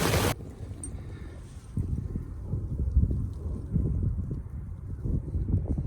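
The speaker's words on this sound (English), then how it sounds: "the wind is really picking up." Strong wind roars during a storm at a campsite in January, a continuous low rumbling buffet that swells and gusts, loud and close against the microphone, with no one talking.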